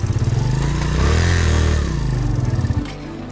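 A motorcycle engine putters and revs close by while the bike is parked on a rough offroad trail, a throbbing mid-pitched idle that swells briefly and then cuts to a lower rumble.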